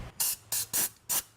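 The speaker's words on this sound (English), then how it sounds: "It's a little compressed air, just to get all the grooves, no grit." Compressed air blasts out the grooves of a wheel bearing housing on a 2004-2006 Lexus ES330 in four short, sharp hissing bursts close up.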